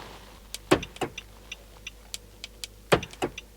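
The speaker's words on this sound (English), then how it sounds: "the lights flash, it unlocks the doors." A Nissan Navara's door locks release from a key fob unlock press: a few sharp mechanical clunks and clicks, with two pairs standing out, close by and otherwise quiet.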